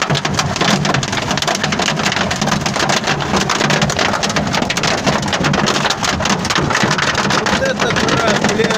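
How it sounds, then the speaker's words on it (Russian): Heavy hail pelting a car in a relentless, dense patter, a close and loud constant rattle throughout, with someone speaking over the din. "Вот это град"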